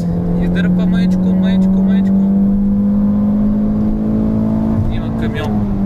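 An Alfa Romeo 145 1.8 with a chip races a chipped SW from a rolling start in second gear, the engine droning loud and close as it pulls steadily higher in pitch, while people talk excitedly over it.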